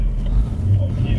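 A 2017 Ford Focus RS with 350 hp drives a rainy circuit, its engine a deep, steady low rumble heard from close by.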